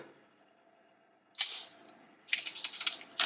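Unboxing an iPhone X: a sharp cardboard scrape and slide as the lid lifts, followed by a quick flurry of rustling, crinkling packaging handled close up, with no speech.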